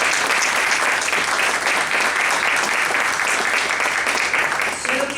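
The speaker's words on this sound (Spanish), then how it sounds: "Y pido un aplauso para Silvia." Loud, dense audience applause fills a cultural centre hall at a presentation of inclusive children's stories, a steady roar of many hands clapping for the whole stretch.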